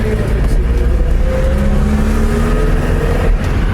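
A Volga GAZ-24 sedan drives through the streets of Chisinau, its engine a steady low rumble heard from inside the cabin, loud and continuous with a faint rising whine and no talking.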